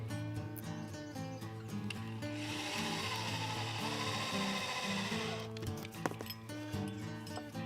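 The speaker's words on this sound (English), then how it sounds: "I'm going to put the 2 screws in the ends to seal it." Power tool driving two screws into the end of a downhill dragster's body during assembly, a sustained whirring run in the middle with shorter bursts of tool noise and knocks on either side, close by.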